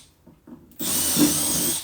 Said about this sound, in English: drill it out